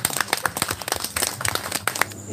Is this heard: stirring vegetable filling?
no